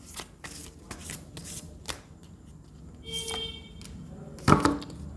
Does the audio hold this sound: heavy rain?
no